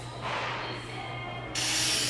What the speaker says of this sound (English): he's going to try out this textured spray paint